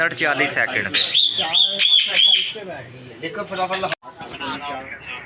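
Pigeons coo and squawk close by on a rooftop, several calls overlapping loudly, with someone talking over them throughout.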